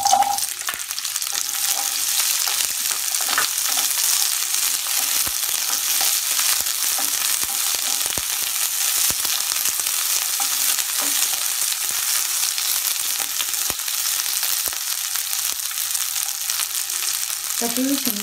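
Chopped onions and cumin seeds fry in hot oil for an Indian soybean and capsicum sabzi, giving a steady, close, loud sizzle that runs unbroken throughout, with faint stirring scrapes and no talk.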